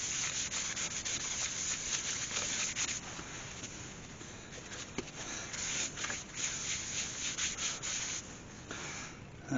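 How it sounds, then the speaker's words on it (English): Continuous scratchy rubbing as sanding sealer is worked into a spinning turned ash jewelry box, close and steady with rhythmic strokes. "what I'm going to do now is apply a little bit of sanding sealer"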